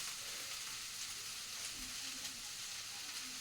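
Food frying in a pan with turmeric and salt, a constant bright hiss of sizzling oil with faint low bubbling underneath, close and steady for a few seconds.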